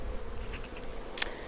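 Honey bees hum faintly around an open hive frame during a hive split, a low, continuous buzz with a few brief faint tones and a short sharp click near the end.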